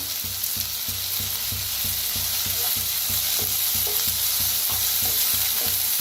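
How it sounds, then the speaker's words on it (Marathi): Chopped onion and tomato fry in hot oil with curry leaves, a steady sizzle broken by a regular series of scraping strokes as the pan is stirred; no talking. "दोन्ही मिळून छान भाजून घेऊया।"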